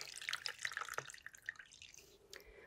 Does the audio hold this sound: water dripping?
yes